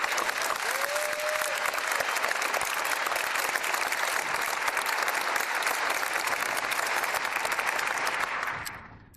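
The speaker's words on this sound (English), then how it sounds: "That was applause if you couldn't hear it." Sustained, even applause from a large conference audience during a live interview at South by Southwest 2014, continuing unbroken before fading out at the very end.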